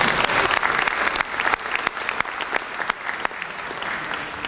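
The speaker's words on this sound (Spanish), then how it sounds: "así que un aplauso para ellos." Audience at a mayor's public accounts address in San Carlos gives a sustained round of applause, moderately distant crowd clapping with sharp individual claps standing out, no speech over it.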